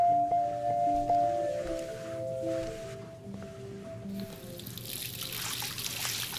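Water runs from a tap in the video game Life is Strange, a soft, steady trickle beneath quiet background music.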